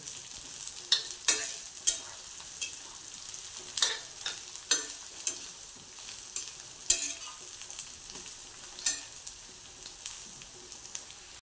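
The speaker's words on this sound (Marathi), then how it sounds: "आणि हे आलं आणि लसूण. हे चांगलं परतून घेऊ खोबरं." Ginger, garlic and coconut stirred and sautéing in a hot pan, a steady soft sizzle broken by repeated spatula scrapes and clinks at an uneven rhythm, close and moderately quiet with no talking.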